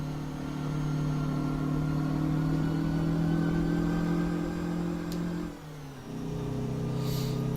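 A Scot A2HD truck engine in American Truck Simulator drones steadily under load, with a brief dip in revs near the end, as if during a gear change, before pulling again.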